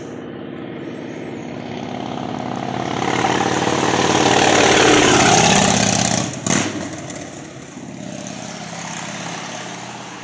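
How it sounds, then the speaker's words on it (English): A motorcycle approaches along a road in Canada, its engine note swelling from a distant drone to a loud, close roar, then dropping away with a brief thump before fading. "Sounds like a motorcycle coming."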